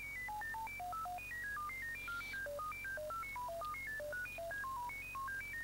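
ROS amateur radio digital mode signal: a steady stream of stepped single tones hopping between pitches in a quick, regular sequence, loud and continuous over a faint hiss, with no voices.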